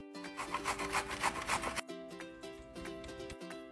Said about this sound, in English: To grate it, I'm just gonna use one of these box graters